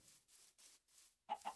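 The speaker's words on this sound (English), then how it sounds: "I hear another chicken." Minecraft chicken giving two quick, close clucks at the end, preceded by soft rustling shuffles, with no speech.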